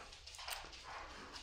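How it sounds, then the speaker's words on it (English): Dogs bark in the background of a quiet indoor room, a continuous muffled rumble of barking and whimpering that stays faint and distant throughout the short stretch. "my dogs are barking in the background"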